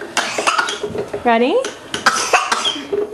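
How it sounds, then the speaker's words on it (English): A small child gives a few short coughs up close, mixed with adult talking and the clatter of dishes and cutlery nearby. "You got a cough."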